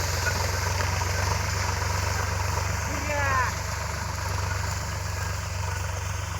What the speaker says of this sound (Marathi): फळातून गाड्या ट्रॅक्टरद्वारे बाहेर काढण्यात येते